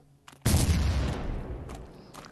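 A laser trap blowing up in the horror video game Psychopath Hunt, a single sudden loud blast after near silence, followed by a rumbling tail that slowly decays over a couple of seconds.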